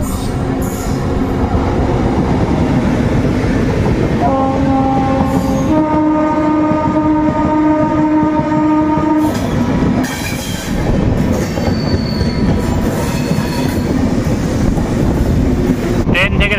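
Passenger train rolling past Joychandi Pahar hill near a railway station in Purulia, with a steady loud rumble throughout and a long sustained horn blast in the middle.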